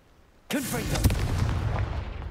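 A Confringo fire spell blasts in Hogwarts Legacy: a sudden loud burst with a whooshing, crackling tail that sustains and slowly decays over about two seconds, standing alone without talk.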